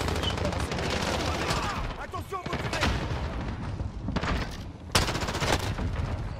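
Dense gunfire in Call of Duty: Modern Warfare, with repeated loud shots and bursts layered over a constant busy game din, and one sharp loud crack near the end.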